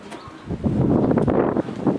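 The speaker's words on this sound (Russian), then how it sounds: "ветер порывистый" Gusty wind blowing outdoors, buffeting the microphone in a rough, rising rush that swells after a brief quieter start and stays loud and close throughout.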